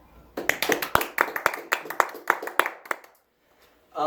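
Applause at a fire and rescue awards ceremony, a smallish group clapping in sharp, distinct close claps that thin out and stop, followed by a brief silence before a voice starts.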